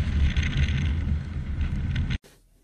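Strong wind batters the microphone on a motorcycle trip near a glacier, a loud continuous roar and rumble that cuts off abruptly near the end, leaving faint quiet.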